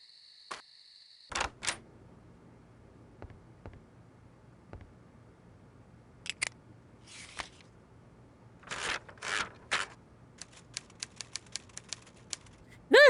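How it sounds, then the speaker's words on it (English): Typewriter keys in an Agatha Christie mystery video game, scattered mechanical clacks in short bursts and isolated single strikes, with a brief ding-like tone near the start, crisp and close over a quiet background. "I love the sound of typewriters."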